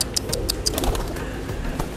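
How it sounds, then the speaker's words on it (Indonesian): Pigeons coo in soft, repeated throaty notes, close by and steady, with a few chirps mixed in and no talking. "Dapat merpati mirip kiu-kiu"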